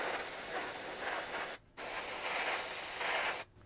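Spray paint hissing onto a cosplay staff, a close steady burst of aerosol spray that cuts off briefly, resumes, then stops again, with no talk.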